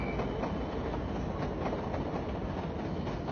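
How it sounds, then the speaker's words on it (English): A Class 80 diesel-electric multiple unit train, known as the Thumper, rumbles steadily with a continuous low droning roar and faint rhythmic pulses, no voices, at a moderate, even level. "Class 80 rolling stock were known as Thumpers because of the distinctive engine noise that they made"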